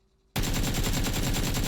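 An AK rifle fitted with a compensator fires in PUBG on console: after a brief near-silence, a loud, sustained automatic burst starts abruptly and rattles on in rapid, evenly spaced shots to the end.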